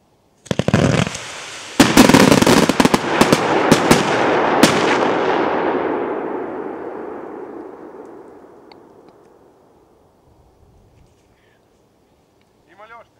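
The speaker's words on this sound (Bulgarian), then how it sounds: "50 изстрела и Yellow V-Shape с гръм." A 50-shot 1.2-inch Yellow V-Shape fireworks cake with bangs: rapid volley of shots and sharp bangs in the first few seconds, trailing into a long crackling wash that gradually fades to near silence.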